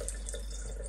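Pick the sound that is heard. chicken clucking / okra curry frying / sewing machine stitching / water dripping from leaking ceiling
water dripping from leaking ceiling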